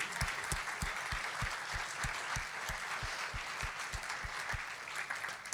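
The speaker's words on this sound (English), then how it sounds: "I reckon we should give a round of applause to these people" Applause from a church congregation fills the room steadily, a dense wash of many hands clapping with a rhythmic pulse of low thumps beneath it, with no talking.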